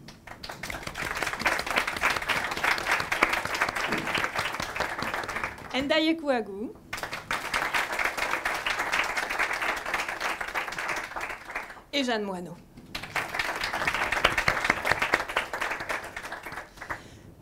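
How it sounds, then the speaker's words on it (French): Audience applause at a French evening discussion event, sustained clapping in long stretches, broken twice by a voice announcing the invited guests' names. "je voudrais que nous applaudissions Laetitia Paviani"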